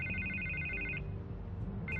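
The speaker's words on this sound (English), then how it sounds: "I can't get the phone to stop ringing." A telephone rings in the Batman Telltale video game, a steady electronic trill that sounds for about a second, pauses, then starts again over a low background hum.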